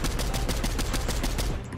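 A loud, rapid burst of automatic gunfire from the video game Fortnite, shots hammering in quick succession close up before cutting off abruptly.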